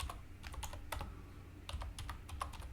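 A Stata command being typed on a computer keyboard: a quick, close run of light key clicks in short bursts with brief pauses, no voice over them.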